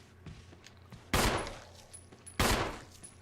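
Two sharp bursts of rapid gunfire, loud and close, separated by about a second over a low background hum, from the video game Resident Evil REmake.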